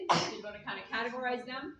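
A single sudden sneeze bursts out at the start, then a person speaks right after it in a quiet indoor setting.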